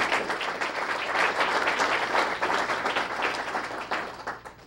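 An audience at a school student-of-the-month ceremony gives a round of applause, dense overlapping clapping at moderate volume that swells and then tapers over a few seconds.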